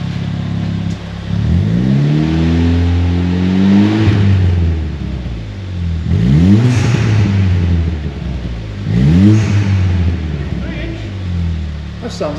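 A Ford Fiesta ST 180 with a Scorpion resonated exhaust revs three times close by, its deep, throaty exhaust note rising and falling back to a rumbling idle between each rev.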